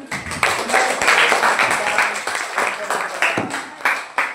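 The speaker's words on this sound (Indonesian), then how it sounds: "Oke, tepuk tangan" A class applauds after a group presentation, a dense burst of many hands clapping in a room, fairly close and steady throughout with small swells, with a voice faintly mixed in.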